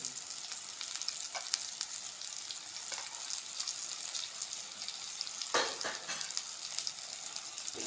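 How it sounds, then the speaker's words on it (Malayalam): Chili powder and turmeric fry for a vala fish curry, producing a steady hissing sizzle with occasional louder scraping bursts from stirring in the pan. "നന്നായിട്ട് വഴറ്റിയെടുക്കുക."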